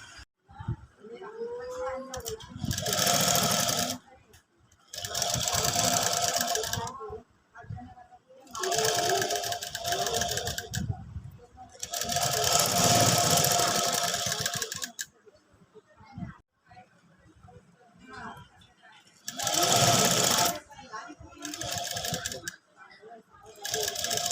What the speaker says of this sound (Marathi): मी आता जाते मशीनवर माझं काम करायला